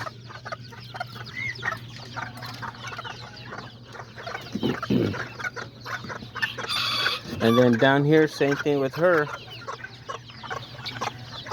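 Hens, chicks and roosters cluck and call in a backyard flock, with repeated close clucks and a burst of loud squawking calls, while a person talks over them.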